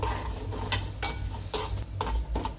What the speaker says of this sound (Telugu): నేను ఫస్ట్ ధనియాలు వేసాను ఇవి కొంచెం కలర్ చేంజ్ అయిన వరకు రోస్ట్ చేసుకుందాం